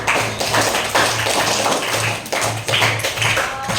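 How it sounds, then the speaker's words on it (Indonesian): A classroom of students claps in unison in a rhythmic patterned clap, loud and close, filling the room with repeated bursts. "Beri tepuk tangan."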